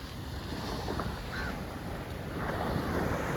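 Steady wash of sea waves rolling onto the shore, with wind buffeting the microphone throughout and a slight swell in loudness toward the end, no voices.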